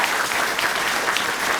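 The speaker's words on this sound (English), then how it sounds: "Give us a round of applause." Comic-Con panel audience applauding, a steady, dense wash of clapping from a sizeable crowd, continuous and fairly loud throughout.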